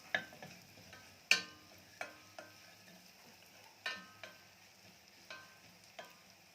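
Bread pieces toast in a pan and are stirred with a utensil, making a series of sharp scraping clacks at irregular intervals over a faint, quiet sizzle.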